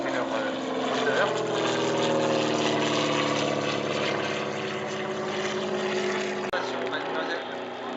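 Propeller aircraft engines warm up before a display at an air show, a steady loud droning roar with slowly shifting tones that holds throughout, while a voice speaks over a loudspeaker.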